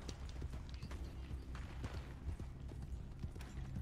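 Hooves clip-clop at a steady trot in Red Dead Redemption 2, fairly quiet, with faint creaks and a soft background bed.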